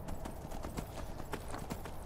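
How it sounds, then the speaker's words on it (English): A horse's hooves clip-clop in a steady, quick rhythm in the video game Skyrim, playing over a dense, continuous background of game ambience and music. "I have a horse."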